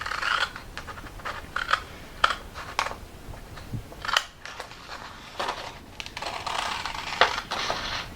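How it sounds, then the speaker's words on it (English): Sharp scissors cut out a paper star along a pencil line in a series of crisp snips and paper rustles, close and irregular, with short pauses as the paper is turned. "we'll cut our star out"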